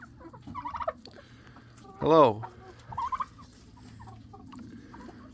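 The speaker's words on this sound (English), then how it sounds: "The turkeys are gonna come see me." Turkeys in a backyard coop after heavy rain give one loud, sharp gobble, followed by a shorter quieter call, among softer hen clucks, while someone speaks briefly.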